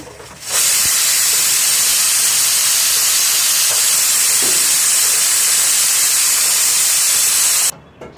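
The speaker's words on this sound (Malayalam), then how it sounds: "നമുക്ക് കുക്കർ മൂടി വയ്ക്കാം എന്നിട്ട് വെയിറ്റ് ഇട്ട് കൊടുത്തിട്ടുണ്ട് രണ്ട് വിസിൽ വരട്ടെ" A pressure cooker with its weight on, cooking Kerala-style sambar, lets out a loud, steady steam whistle-hiss that starts abruptly, holds for about seven seconds and cuts off sharply.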